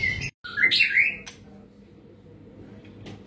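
A white-rumped shama (murai batu) at a bird contest gives a short burst of bright, high whistled chirps near the start, then falls quiet, leaving a low background hum with a faint chirp at the end.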